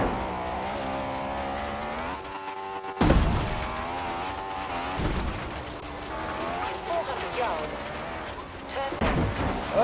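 An Abarth 500 Esseesse slides sideways under the handbrake in Forza Horizon 3, engine revving and dropping with tire scrub and a sudden loud thump partway through, under someone talking and a navigation voice.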